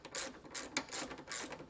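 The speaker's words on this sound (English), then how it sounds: "put the existing nut back on and get that tightened back down." Ratchet wrench with a 14mm socket tightening an existing nut while a Curt trailer hitch receiver is installed on a 2021 Ram ProMaster, giving a few close, rhythmic clicking strokes.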